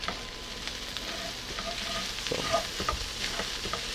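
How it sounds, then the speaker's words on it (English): Onions and bacon fry in a pan over medium-high heat, a steady close sizzle with occasional scrapes and clinks as they are stirred, no talking. "cook for another 5 minutes on medium-high heat, stirring from time to time"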